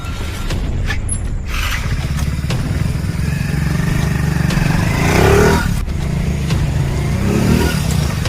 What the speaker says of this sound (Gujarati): ચલો બાઈક ચાલુ કરો.